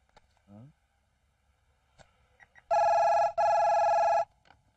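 Telephone ringing in a comedy film scene: two loud, electronic ring bursts back to back with a short gap, preceded by faint scattered background sounds and a brief voice.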